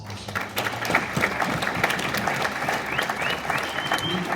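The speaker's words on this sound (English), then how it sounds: "clap for that, that's awesome" Room of solar company staff applauding at a business meeting in Las Vegas, a dense steady round of clapping from a crowd throughout, with a few voices and whoops mixed in.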